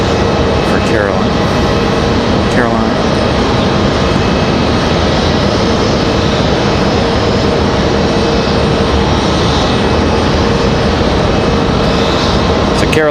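An American Airlines Boeing 737 MAX 8 produces a broad, sustained engine roar close by at an airport, while people talk over it.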